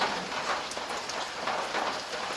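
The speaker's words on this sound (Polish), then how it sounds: "No już przestaje deszcz padać." Steady rain falls outdoors, a continuous dense hiss of drops pattering on surfaces, close and even throughout with no voices.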